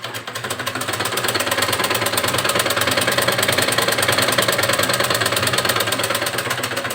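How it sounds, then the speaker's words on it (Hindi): A domestic sewing machine runs steadily while stitching cloth at home, a fast, even mechanical chatter that stays loud and continuous throughout with no pauses. "ये सिलाई हो रही है।"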